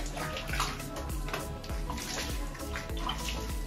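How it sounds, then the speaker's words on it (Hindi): Water poured over someone being bathed, a steady splashing and running-water wash with repeated pours, close and fairly loud throughout. "बहुत ध्यान से पानी डालना पड़ेगा।"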